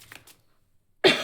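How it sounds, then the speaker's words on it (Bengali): A single sharp cough bursts out near the end after a faint murmur and a short silence, close and fairly loud. "অনেকে জিজ্ঞেস করতে পারেন যে কাশিটা যাচ্ছে কেন, যাচ্ছে না কেন"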